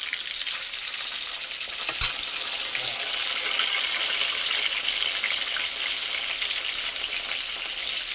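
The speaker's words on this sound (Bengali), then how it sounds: "ফুল দমে মাছ ভাজা চলছে।" Tilapia fish frying in hot oil gives a steady, bright sizzle that holds for the whole stretch, with one sharp clatter early on and no voices.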